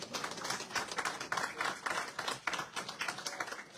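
An audience claps at a live French political debate, with dense, moderately loud applause sustained evenly from start to end.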